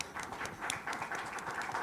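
A League of Women Voters audience at a community meeting claps in a brief, light round of applause, soft patter of hands, moderately distant and fairly quiet.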